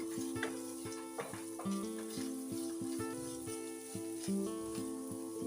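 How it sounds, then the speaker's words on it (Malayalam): Sliced ginger and green chillies fry in a pan for Kerala puli inji, a steady soft sizzle with occasional crackles running beneath tonal background music. "ഇനി ഇഞ്ചിയും പച്ചമുളകും നന്നായിട്ട് മൂത്ത് വരട്ടെ."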